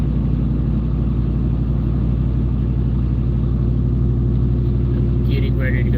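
Steady low engine rumble from a car driving through Bowling Green, Kentucky, a continuous drone of road and motor noise at even loudness throughout, with faint sounds near the end.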